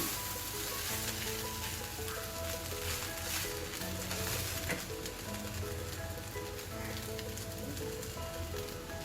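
Soaked sago khichdi sizzling steadily in a pan as it is stirred, a close, even crackle of frying with occasional scraping from the spoon, with no voices.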